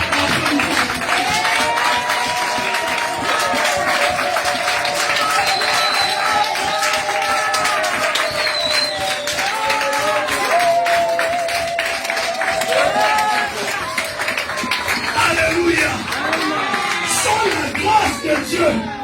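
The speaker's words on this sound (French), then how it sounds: "Il faut bien applaudir, s'il vous plaît." A church congregation at a preacher's sermon applauds for a long stretch, dense clapping mixed with cheering and whooping voices, loud and continuous throughout.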